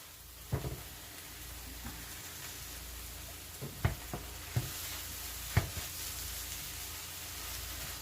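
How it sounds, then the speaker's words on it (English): Garlic, onions, spinach and mushrooms sizzle steadily in a pan, a constant close frying hiss with a few sharp clicks and taps from stirring scattered through it, and no speech. "We just want to cook that garlic just a little bit."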